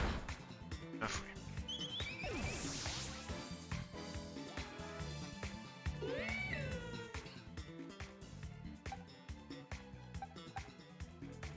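A cat meows and yowls within Pokémon Scarlet gameplay, rising and falling cries heard over dense, loud game music and effects, with no talking.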